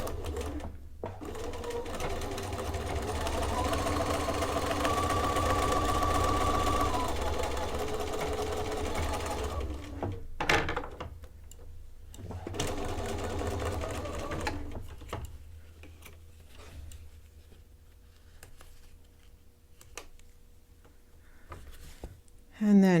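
Sewing machine running in long steady bursts as it stitches a deeper seam on a double zipper pouch, with pauses between runs and a voice talking over parts of it.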